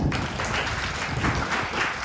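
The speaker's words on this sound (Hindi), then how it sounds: "जोरदार तालियां" Loud, steady audience applause at a children's cultural performance event, continuous dense clapping throughout with no talk.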